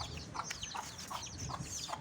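Golden Sebright chickens and their chicks on a poultry farm make soft, repeated clucks and peeps. The calls are faint and fairly distant, recurring about every half second over a low background hum.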